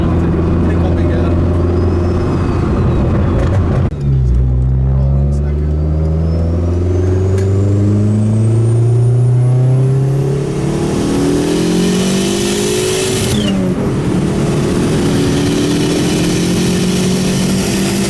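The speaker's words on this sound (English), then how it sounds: "turbo sounds nice" A Saab fitted with a big turbo revs hard and loud, engine pitch climbing repeatedly, dropping, then climbing again with a rising turbo whine, while people talk over it.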